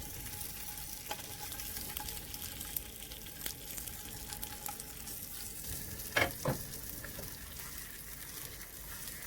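SPAM-style bacon grill frying in a pan gives a steady, faint, close sizzle throughout, with a couple of brief louder scrapes or spatters partway through and no voices.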